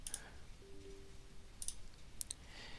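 Computer mouse clicks while selecting Run as Administrator from the Windows 11 Start menu, a few sharp, faint clicks spaced apart against a quiet background.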